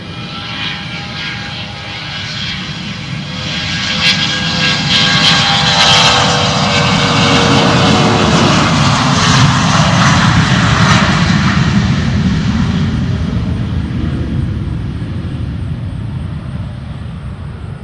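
A three-engine UPS freighter jet rumbles on the runway, a loud, sustained roar that swells to a peak midway and then slowly fades while the aircraft passes nearby.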